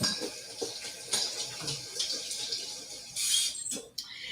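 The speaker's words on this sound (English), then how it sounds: "Let me wash my hands real quick." Water runs from a kitchen tap while hands are washed, a steady close splashing stream with brief surges and small clatters as the hands move under it.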